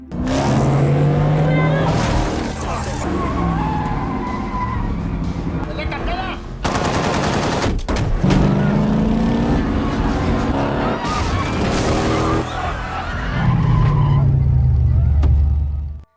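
Action film car chase with gunfire: roaring engines and tire squeals mixed with sharp bursts of shots and crashes, loud and continuous, with dramatic film sound layered throughout.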